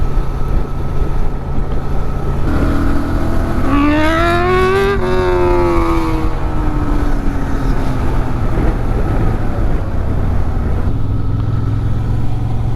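A 2023 Honda Transalp XL750 motorcycle trundles through a village in third gear at about 30 mph, its steady low engine drone under wind noise, with a rising and falling tonal whine passing midway.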